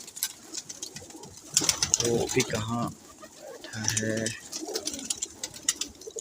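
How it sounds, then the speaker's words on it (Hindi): Pigeons, one of them a teddy pigeon, cooing in low soft bursts with a steady twitter of other birds behind, while someone talks nearby. "कबूतर बैठा हुआ नज़र आ रहा है"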